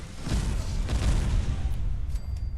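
In Fallout 4, an orbital strike called in with the Archimedes II laser targeting mod hits as a deep, rumbling explosion, a heavy low boom that rolls on and then fades over a few seconds.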